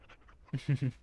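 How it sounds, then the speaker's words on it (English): A dog in the video game Dragon Age: Origins pants happily while being petted, giving three quick, close breathy huffs after a softer moment. "Happy doggy."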